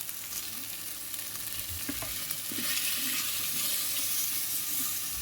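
Ginger and garlic paste sautéing in a pan with ground coriander and cumin for a kabuli chickpea ghugni curry, a steady sizzle with scattered stirring scrapes, close and continuous, no talking.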